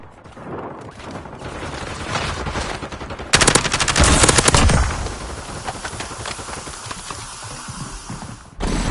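Gunfire in Call of Duty Warzone: scattered, muffled shots build up, then a loud, rapid automatic burst rattles for about a second and a half before trailing off into quieter pops.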